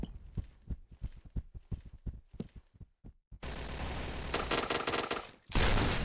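Gunshots in the shooter game Point Blank: a run of sharp single shots spaced out and fairly quiet, followed by a loud continuous burst of automatic fire and then another heavy blast.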